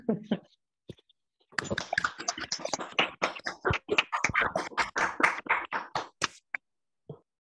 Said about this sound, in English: If we could all unmute for a second to give him a round of applause as much as we can on Zoom.